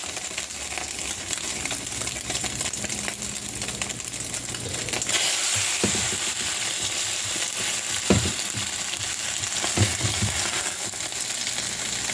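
Bread soaked in milk and egg frying in a pan for French toast, a continuous close sizzle that swells midway, dotted with a few soft scrapes and taps, no voices.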